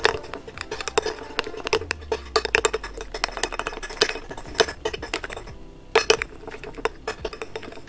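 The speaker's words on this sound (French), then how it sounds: "Et je continue de mélanger." Homemade glue-free slime thickened with salt is stirred in a bowl, giving rapid clinks and scrapes against the sides in an irregular rhythm, close and fairly loud with no talk.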